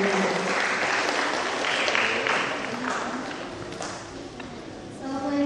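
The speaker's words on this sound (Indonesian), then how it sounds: "tepuk tangan buat dia" Steady applause from an audience of children and officials at a meeting of child representatives with the deputy governor of Jakarta, holding fairly loud throughout with faint voices mixed underneath.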